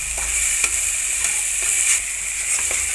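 Mustard oil heats in a pan for a dahi potol dish, giving a bright, steady sizzle with a few soft clicks of a spoon, near and loud, with no talking.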